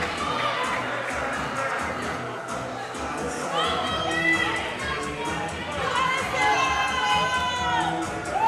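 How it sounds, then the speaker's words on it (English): A crowd at a CrossFit-style fitness competition cheers and shouts encouragement to a competitor, loud, overlapping voices rising in swells, mixed with nearby talk and some children's shouts. "They're cheering him on."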